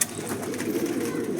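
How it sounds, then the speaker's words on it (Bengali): Domestic pigeons give a brief, soft, low coo, close by with light background noise and no talk. "এগুলো হচ্ছে আমার বাড়ির পায়রা"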